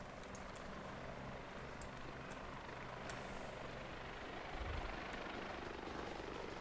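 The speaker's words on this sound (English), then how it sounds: "The heli looks like he's engaged." A military helicopter in the Arma 2 video game gives a steady, faint rotor drone throughout, with a brief low thump near the end.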